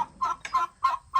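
Turkeys on a farm calling close by, a series of short nasal clucks and yelps in quick bursts, loud and near with no talk over them.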